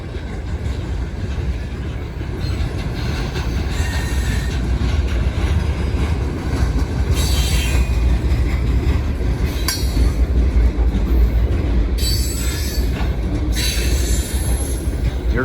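Freight train of rock-filled cars rolling past close by, a loud steady rumble of wheels on rail with bursts of high metallic wheel squeal throughout, no talking.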